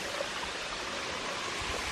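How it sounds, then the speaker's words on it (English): A waterfall in Well's Hill/Joy Gleghorn Nature Preserve, Tennessee, gives a steady, full rushing roar of falling water that stays constant throughout with no voices over it. "I'm just hoping for one last waterfall here."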